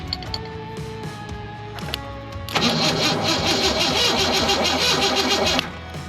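A 1986 Ford Ranger V6 being jump-started cranks loudly and steadily for about three seconds, a dense churning whir that stops abruptly, preceded by quieter clicks and mechanical clunks, close by with no talking.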